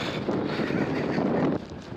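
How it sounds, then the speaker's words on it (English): Strong gusty wind on a hillside near Raise and Sheffield Pike, a loud rushing roar buffeting the microphone for under two seconds before easing slightly. "this wind's a bit insane"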